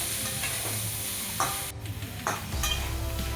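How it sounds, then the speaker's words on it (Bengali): Ginger, cumin and green chili paste sizzles in a pan as it is stirred, with a steady frying hiss broken by a few soft scrapes and spoon knocks, no one speaking. "এবার আদা, জিরে, লঙ্কা বাটাটা দিয়ে দিল। আবারও নাড়াচাড়া করছে।"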